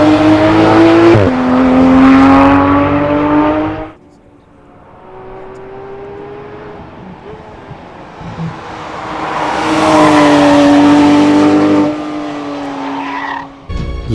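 A Porsche 911 GT3 RS exhaust howls as the engine revs hard and shifts up, fades to a lower drone as the car passes at a distance, then screams loudly close by again.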